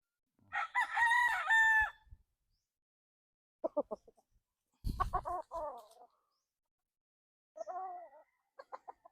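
Gary Gilliam Roundhead and Golden Boy Sweater gamefowl stags crowing, several separate close crows with silent gaps between them, the first long and loud, later ones shorter and fainter.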